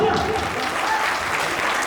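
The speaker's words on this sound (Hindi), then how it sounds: "जोरदार तालियां" Audience applause after a film screening, a dense, steady wash of many hands clapping that fills the whole stretch, loud and continuous with no break.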